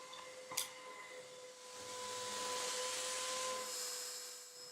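A Hoover WindTunnel T Series Rewind UH70120 upright vacuum with an air-powered brush bar runs with a faint, steady whirring hiss that swells and then eases, after a brief knock near the start.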